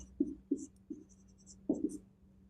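Chalk or marker strokes on a classroom board come in short scratchy bursts, about five separate marks with brief pauses between, close and fairly quiet with no talking.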